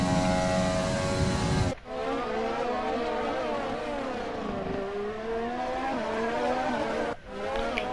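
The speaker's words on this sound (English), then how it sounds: "Listen to that Honda power engine." A high-revving Honda-powered Formula 1 car engine in the F1 2020 video game screams continuously at Azerbaijan, its pitch rising and falling through gear shifts, with brief drops where it changes gear.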